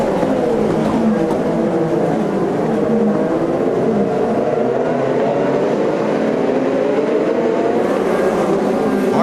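IndyCar race cars in the 2015 Detroit race on a street circuit, engines droning loud and continuous with rising and falling pitch sweeps as several cars pass in line, no voices.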